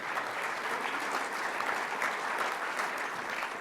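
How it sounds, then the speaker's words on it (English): Audience applause at a hockey hall of fame induction ceremony, a dense steady clapping from a large crowd heard throughout at moderate level, without speech over it. "You can clap for that too."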